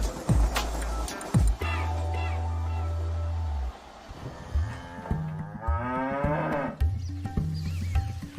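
Dairy cattle at the Banas cooperative in Gujarat, India, moo loudly and repeatedly, with long, drawn-out calls from several animals close by and brief knocks and movement noises between them.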